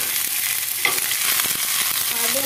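Curry leaves sizzle in hot oil for a kulambu, a steady bright crackle with small pops and a light stirring scrape.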